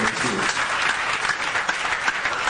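An audience at a ceremony presenting letters at the Palais de la Nation gives sustained, dense applause, with steady clapping that fills the space throughout.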